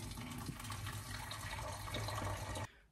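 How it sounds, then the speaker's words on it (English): A steady stream of boiling water pours into a container, a continuous close splashing rush that cuts off abruptly near the end. "add one litre of boiling water"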